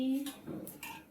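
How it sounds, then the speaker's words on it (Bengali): Jaggery malpua frying in a pan, heard as a brief metallic clatter and scrape of a utensil against the pan, close and moderately loud, with no voices. "এইখানে ভাজছি"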